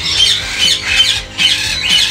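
A rosella parrot gives loud, harsh squawks close by, four bursts in a quick uneven rhythm with brief gaps between them.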